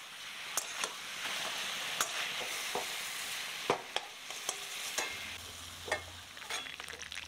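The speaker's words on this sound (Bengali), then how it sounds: "গরম হয়ে গেলে চিকেনের টুকরোগুলো এখানে ভেজে নিচ্ছি।" Chicken pieces frying in hot oil for a Bengali black pepper chicken, a steady close sizzle broken by sharp scrapes and clacks as the pieces are stirred and turned in the pan.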